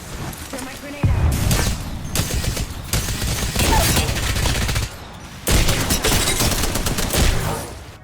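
Rapid, dense gunfire bursts in a first-person shooter video game, loud and continuous with brief pauses, mixed with game voice callouts.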